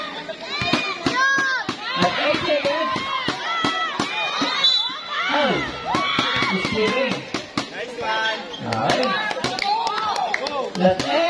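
Crowd at a local basketball game in Bulan shouts and cheers loudly and continuously, with excited voices, children's cries and scattered clapping filling the gym.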